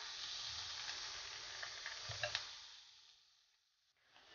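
Onion and green bean pancake sizzling in a covered pan over low heat, a soft steady hiss with a few faint pops that gradually fades toward silence before a brief clatter at the end.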